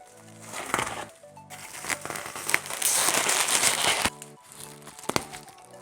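A Zhiyun Weebill S camera gimbal being unboxed, with bursts of close, loud crinkling and rustling packaging and short quieter gaps between the handling noises.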